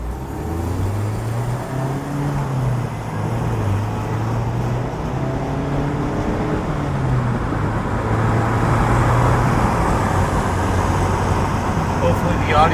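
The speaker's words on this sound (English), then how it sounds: "this particular car that I'm driving, it's a brand new car, the Miata" A brand-new 2019/2020 Mazda Miata RF driving with the top down, its engine a steady low drone mixed with road and wind noise, while someone talks over it throughout.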